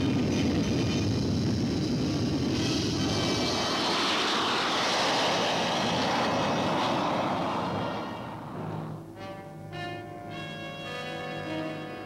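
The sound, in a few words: U-2 spy plane taking off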